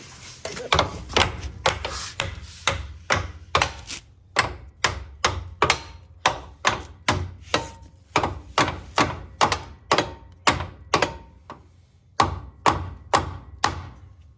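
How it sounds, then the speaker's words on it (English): Repeated hammer blows ring out against metal on a Willys Jeep CJ5 during an engine swap, sharp and fairly close, in quick irregular bursts with short pauses between groups. "I need my hammer, and we'll try to bang it over there a little bit"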